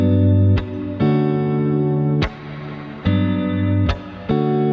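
A repeating electric guitar chord progression, strummed chords ringing and sustaining, with a short descending walk-down between them. Steady and close, no speech.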